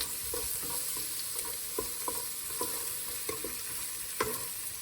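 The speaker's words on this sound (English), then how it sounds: "onions have been cooking for a while, they're a bit brown" Onions for veggie pasta frying and browning in a pan, a steady close sizzle with repeated scraping stirs at a regular pace and no voices.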